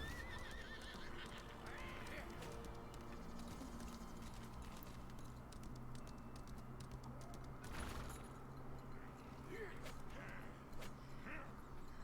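Horse whinnies and clip-clopping hooves in the online game Lost Ark, repeated neighs over steady trotting, with a player talking quietly underneath and game ambience throughout.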